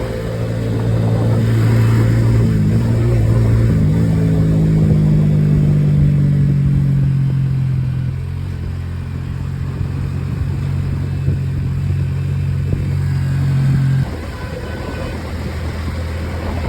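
A motorcycle rides along a road from Chennai toward Vellore, its engine a steady mid-pitched drone with shifting tone and wind-like rush, heard up close and loud.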